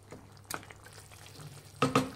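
A spoon stirs capsicum green chicken in a hot pan, making a soft sizzle with a few short scraping strokes, including a pair of louder scrapes at the end, with no voices.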